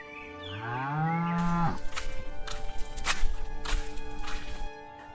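A cow in a cattle shed lets out a long, loud, falling moo, followed by a few seconds of close rustling, thumping and knocking in the stall, with no voices.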